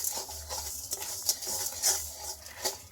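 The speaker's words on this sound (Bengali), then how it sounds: "এবারে চিনিটাকে আমি নাড়াচাড়া করব, একদম গলিয়ে নেব।" Sugar being stirred in a pan to melt it for tamarind chutney, a steady soft scraping with light clinks of the utensil against the pan and a faint hiss, close and fairly quiet with no talking.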